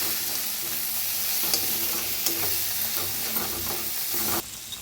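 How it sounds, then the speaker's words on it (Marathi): Coriander powder, turmeric and red chili powder roasting in a pan for a dingri vegetable dish, a continuous close sizzle with soft scraping stirs of a spoon throughout, no voices. "आता चांगलं भाजून घेऊया"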